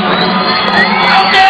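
Spectators cheer and shout at a women's bouldering World Cup final in Vienna, a steady, loud crowd roar with scattered whoops, continuous throughout.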